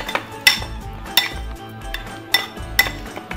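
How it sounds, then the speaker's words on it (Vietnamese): A utensil stirring crispy fried shallots with salt, sugar and MSG in a pan, scraping and clinking against the metal in sharp, irregular knocks close by, with no talk. "Mình chỉ trộn lên để cho nó muối với đường bột ngọt nó tan là được."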